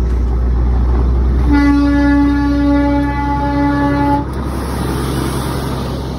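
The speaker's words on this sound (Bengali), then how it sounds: "এই মুহূর্তে একটা ডিজেল চালিত টয় ট্রেন আসছে" A loud, close horn from a diesel toy train in Darjeeling sounds one long sustained blast over a rumbling engine, then cuts off while the rumble continues.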